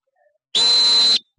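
A traffic police whistle gives one long, steady, shrill blast lasting well over half a second. It is loud and close, with no other sound around it.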